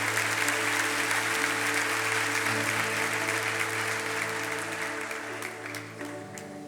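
A church congregation at a worship event applauds strongly, a thick, sustained roar of many hands that slowly softens toward the end.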